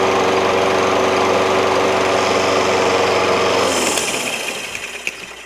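A Toro Recycler self-propelled lawn mower with a Kohler XT675 6.75 engine runs with a loud, steady buzzing drone close by, then winds down and cuts out near the end.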